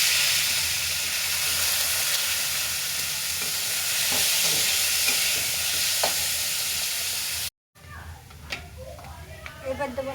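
Chopped onion frying in a pan with dried red chilli, bay leaf and cumin seeds gives a steady, loud sizzle with stirring clatter. It breaks off briefly near the end, then returns as quieter scraping and clinks.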